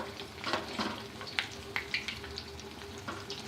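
Potato kababs fry in hot oil over medium heat, giving a soft, steady sizzle with faint crackles and small pops, no voices.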